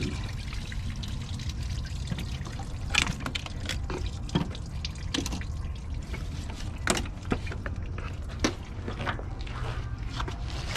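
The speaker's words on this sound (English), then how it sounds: "drain all the coolant and pop the thermostat housing off" Engine coolant pours and trickles steadily out of a car's cooling system after the thermostat housing comes off, a continuous close liquid splashing with occasional louder drips and clunks, no talking.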